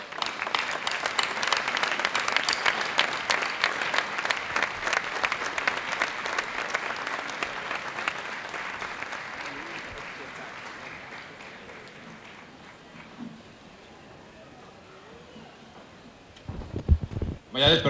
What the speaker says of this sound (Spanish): Yo creo que hay que darle un fuerte aplauso.